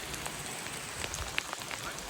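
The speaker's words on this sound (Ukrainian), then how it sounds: "На вулиці гроза дощ" Rain falls steadily during a bike ride in a thunderstorm, a faint, even patter with scattered drop ticks close by, heard without voices.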